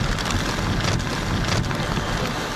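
Strong typhoon wind during Typhoon Koinu (Super Typhoon Koinu) battering the coast at Heng Fa Chuen in Hong Kong, with surf pounding the shore: a loud, constant roar of buffeting wind and water with gusty surges, no voices.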